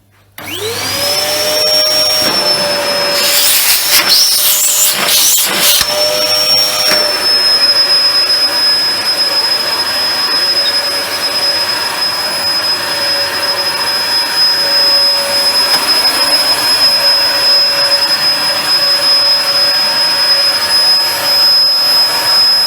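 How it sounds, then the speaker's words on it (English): A Dyson DC01 upright vacuum cleaner switches on and runs steadily and loudly for the whole stretch, with a high motor whine and rushing airflow and a brief rougher patch near the start. "Let's plug it in and just see if it does actually run."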